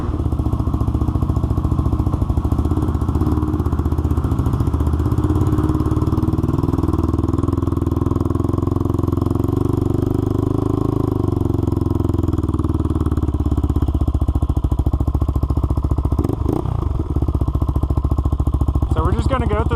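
A Honda 400EX ATV engine, revived after having locked up, runs loudly and steadily from start to finish, with a near, continuous mid-pitched drone and slight shifts in tone.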